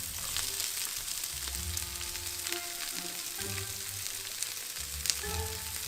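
Green peppers sizzle and fry in a pan for ostrich steak fajitas, a steady crackling hiss with occasional stirring scrapes and clicks, close and moderately quiet, with no voices.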